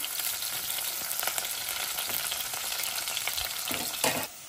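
Onion with curry leaves fries steadily in hot oil toward golden brown, a dense continuous sizzle close by, broken by occasional spoon stirs and a soft scrape near the end.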